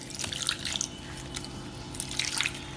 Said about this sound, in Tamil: கொஞ்சமாக தண்ணி ஊற்றி